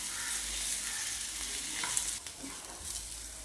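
Potato filling for samosas sautés in a pan. It gives a continuous close sizzle with scraping stirs of a spatula, and no talking is heard.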